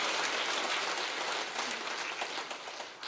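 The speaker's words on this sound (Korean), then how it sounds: "하나님께 영광의 박수" A church congregation claps in praise to God during a sermon at Pohang Central Church. The clapping is continuous and fairly distant, a dense even wash that fades slightly toward the end, with no voices over it.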